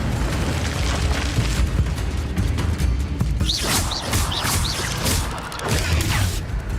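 Fiery spell blasts from Incendio being cast in Hogwarts Legacy, a dense stream of booming, crackling bursts with repeated whooshing rises, loud and continuous through the whole stretch without talk.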